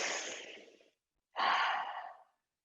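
A deep yoga breath, taken up close during a virtual summer camp class: one long airy exhale, a short silence, then a big, loud breath that fades out with nobody speaking.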